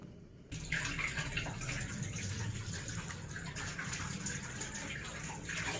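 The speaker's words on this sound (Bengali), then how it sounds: "তো এখন পেঁয়াজ ধোয়ার পালা চলছে" Tap water runs steadily into a sink while onions are washed in the kitchen, a continuous close splashing gush after a brief quieter start, with no talking.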